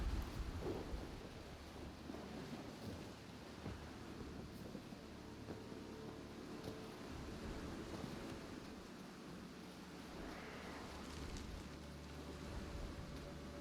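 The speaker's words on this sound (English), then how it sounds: "And a rainy day, too." Steady rain hisses throughout with low thunder rumbling underneath in The Witcher 3, a continuous stormy wash with no talking.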